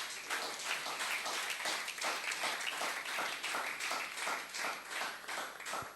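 A church congregation applauds and claps in acclamation, a full, sustained wash of many hands with a rough rhythmic pulse, steady and close for the whole stretch with no talking.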